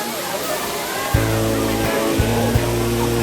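The steady broadband roar of the Eaton Canyon waterfall fills the scene, loud and continuous, with a low engine-like hum and voices talking over it.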